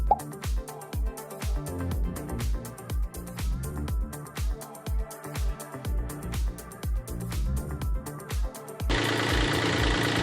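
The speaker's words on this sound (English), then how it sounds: "I run the engine and check to make sure nothing's leaking." Sailboat diesel engine running after its fuel lines were bled, a rhythmic close chugging knock at a steady idle pace, then a rougher, noisier stretch near the end as the throttle rises.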